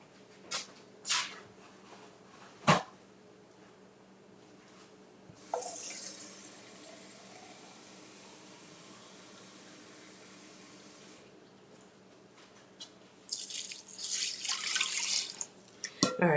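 Tap water runs into a pot for several seconds at a time, a bright steady rush that stops and starts again, preceded by a few clanks and knocks, with no talking.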